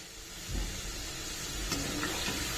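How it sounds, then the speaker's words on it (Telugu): Soya chunks for meal maker manchurian frying in hot oil, a constant close sizzle and hiss with a few soft bubbling pops, fairly quiet and steady throughout. "ఇవి బాగా వేగే వరకు వెయిట్ చేద్దాం."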